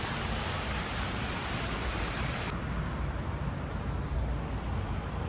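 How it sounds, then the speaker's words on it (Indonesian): Heavy rain pours down in a botanical garden in Kuala Lumpur, a dense, loud, unbroken hiss of falling water that fills the whole scene. "di belakangku tuh hujan deras"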